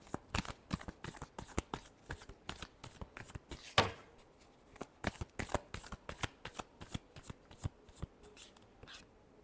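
Tarot cards shuffled by hand, a fast run of crisp riffling slaps and flicks in an uneven rhythm, close and fairly quiet, with no talking.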